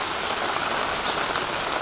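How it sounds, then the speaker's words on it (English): Rain falling outdoors beside a Blackstone griddle, a steady, dense hiss of drops pattering on surfaces, fairly soft and continuous with no voices. "Yep, rained again. Every time I film, it rains."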